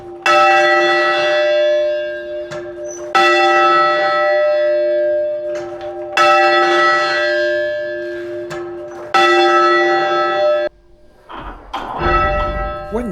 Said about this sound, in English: we can see the bell moving off the balance and starting to ring.